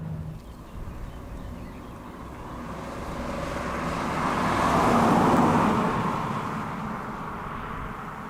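A Peugeot 308 GT hatchback accelerating out of a corner, its engine note rising to a broad swell midway before easing off, steady road noise underneath, no talking.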